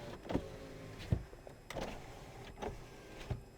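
Power window motors on a 1995 Chevrolet Monte Carlo whir in a series of short bursts, several separate close pulses of motor noise and clunks with brief pauses between them.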